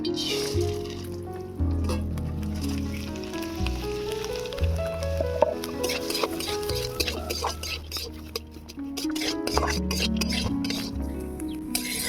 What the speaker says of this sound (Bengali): এবারে মুসুর ডালটা ভেজে নেব